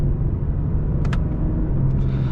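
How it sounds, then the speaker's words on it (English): Steady low engine and road rumble inside a 2021 Lexus IS 300 AWD as it upshifts while driving, with a couple of faint brief clicks partway through and no talking. "I'll show you upshifts here."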